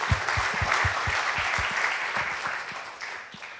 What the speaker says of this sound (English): Let's start by giving an applause.